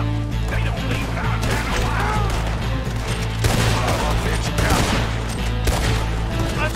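Gunfire crackles through a Red Dead Redemption 2 shootout with lawmen, with repeated rifle and pistol shots in rapid overlapping volleys over a constant low drone and brief background voices.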